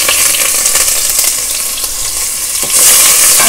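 Onions drop into hot ghee in a pan, a loud, dense crackling sizzle that swells louder near the end, with no voices.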